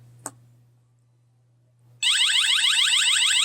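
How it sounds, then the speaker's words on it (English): A gadget's alarm bursts on after a quiet stretch with a faint hum and a small click, then repeats loud, rapid warbling beeps close up. "there's also alarm"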